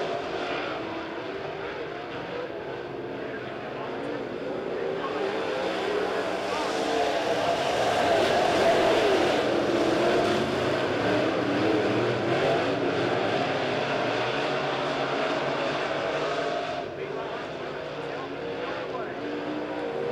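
A-Modified race cars roar around Springfield Raceway coming off turn four, a dense continuous engine drone that swells and holds loud, with a race commentator talking over the pack.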